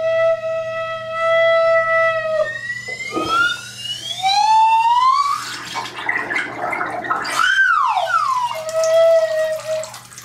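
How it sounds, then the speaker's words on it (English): A bamboo flute is played underwater, giving a warbling, bubbly tone that holds steady, then bends and slides in pitch, with gurgling water between the notes and no talk. "That's the bamboo flute underwater."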